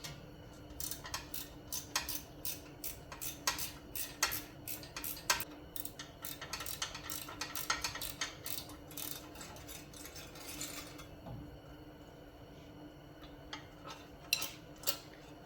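A ratchet wrench removes the bolts holding a radiator fan during a classic car electric fan and radiator upgrade. It gives off rapid bursts of sharp, close metallic clicks, stopping and restarting in uneven runs with no one speaking.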